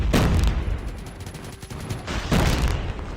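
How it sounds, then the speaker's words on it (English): Enemy airstrike explosions hit in a competitive shooter match: two loud, close booming bursts land roughly two seconds apart, with a crackling, rattling spray of smaller impacts between them. "Enemy airstrike."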